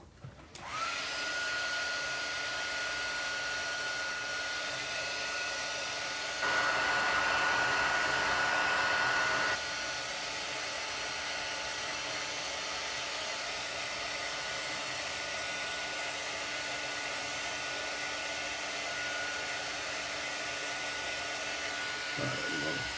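A heat tool blowing to set paint on a handmade rainbow card gives a steady, close whooshing blast that runs nearly the whole time and briefly gets louder in the middle.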